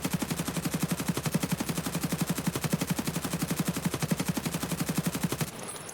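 An RPK light machine gun fires in Escape From Tarkov, one long sustained automatic burst of rapid, evenly spaced shots, loud and close, ending abruptly near the finish.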